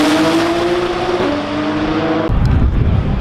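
Lamborghini Huracan STO drag cars scream down the strip at TX2K22 near 200 mph, a loud sustained engine whine that shifts pitch once, then breaks off into a rougher rumble.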